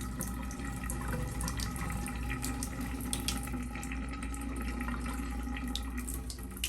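Water gurgles and rushes steadily down a sink drain after a boiling water, vinegar and baking soda clog treatment, a continuous close wash with faint drips and no talking.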